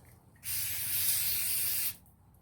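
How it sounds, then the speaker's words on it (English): A single steady burst of aerosol cleaner hisses onto Milwaukee 3/8 chrome ratchet parts, lasting about a second and a half, close and loud, with quiet room noise before and after. "we're going to spray it off again"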